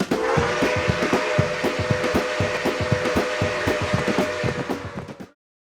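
Lionel Southern Pacific SD40T-2 tunnel motor model locomotives rumble along the track with a steady rhythmic clatter of wheels over rail joints and a sustained tonal horn, ending abruptly.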